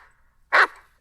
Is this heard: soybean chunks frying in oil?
no